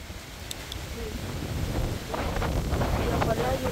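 Strong storm wind gusts roar and buffet the microphone, a rumbling low rush swelling louder midway, with faint voices and rustling underneath.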